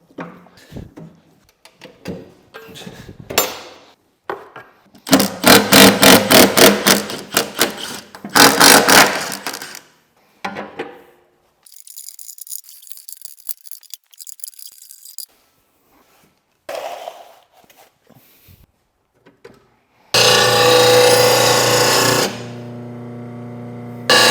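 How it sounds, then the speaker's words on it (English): Work on a Walker mower deck in a home shop, sharpening blades: bursts of loud grinding and metal tool noise separated by quiet gaps and clanks, ending with a sustained harsh grind. "let's get this deck up, let's start sharpening some stuff"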